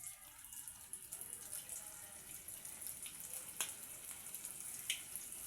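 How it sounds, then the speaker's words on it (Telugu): Vegetable manchurian balls go into hot oil and sizzle steadily with a fine, bubbling hiss, with a few sharper pops and crackles rising above it. "ఇక నూనె కాగింది, ఇట్లా వేసుకోవాలి."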